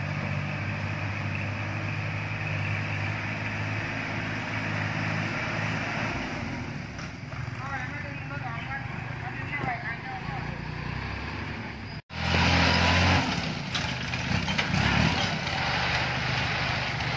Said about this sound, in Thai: เจอรถไถใหญ่สองคันมาโผล่กันแบบนี